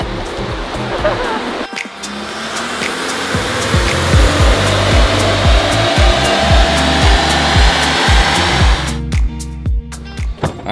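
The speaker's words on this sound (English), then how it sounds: "Oh, boost noises." Turbo boost whooshes from a Ford Bronco fitted with a K&N intake during a dyno run: a loud rushing hiss swells and holds behind pulsing engine revs, then cuts off into sharp, rapid chatter, with voices speaking over it.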